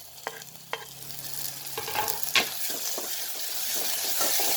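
Spices sizzle and crackle in hot oil as tempering for a prawn curry, a steady frying hiss that swells gradually, with a few sharp clinks of a spoon against the pan.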